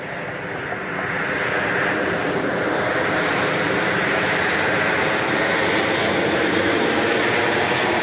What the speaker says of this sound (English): This plane's coming in from Tulsa.